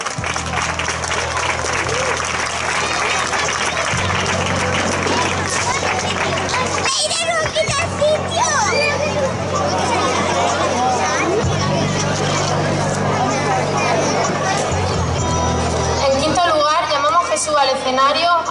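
Crowd applause at a village festival opening in Hoya del Campo as an honorary maid of the fiestas is called to the stage, steady clapping and hubbub over a low, booming musical backing that continues throughout.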